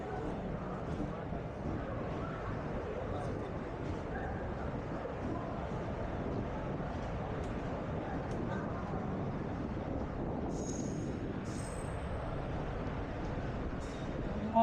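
An Indian Railways passenger train bound for Thanjavur in Tamil Nadu runs on its rails, heard from inside as a steady, unbroken rumble and roar with wind-like noise that persists throughout at an even level.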